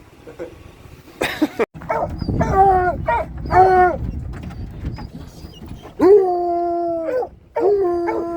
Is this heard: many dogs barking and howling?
yes